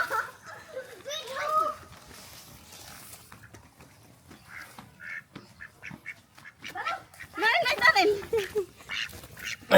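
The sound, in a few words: ducks quacking while children catch them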